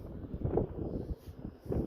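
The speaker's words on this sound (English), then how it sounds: "It gets really windy out here." Wind buffets the microphone on the open helipad deck of the Royal Caribbean cruise ship Explorer of the Seas, a steady low rumbling gust with no talking.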